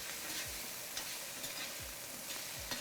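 Spiced potatoes sizzle in hot oil in an Indian curry pan while a spoon stirs them, giving a steady frying hiss broken by several soft scraping strokes about every half second.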